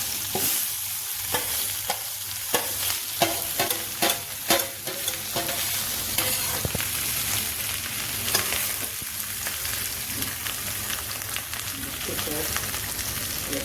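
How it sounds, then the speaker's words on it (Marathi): A mashed potato and vegetable samosa filling fries and is stirred in a pan with asafoetida, steady loud sizzle throughout with repeated close scraping spoon strokes and clacks. "हिंग परतल्यानंतर ही भाजी टाकून घ्यायची."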